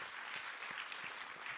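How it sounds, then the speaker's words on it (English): Faint, steady applause from the audience at the White House Tribal Nations Summit afternoon session, a continuous patter of clapping heard from a distance with no voices over it. "you should all be applauding yourselves for being here"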